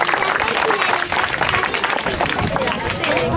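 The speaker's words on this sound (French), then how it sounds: "Il faut l'applaudir encore." Loud, dense applause from a crowd at a medieval festival in Montferrand, clapping for a performer, steady and close, with some crowd murmur mixed in.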